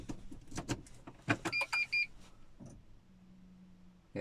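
Warning chime from an old Smart ForTwo, sounding as a short run of repeated high, steady beeps mid-clip, set among small interior clicks and a low hum in a quiet cabin.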